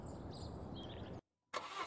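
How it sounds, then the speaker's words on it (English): A video-game car engine from This is the Police runs with a steady low rumble, cuts to silence briefly, then kicks back in with a burst of revving. "Listen to the purr of that engine."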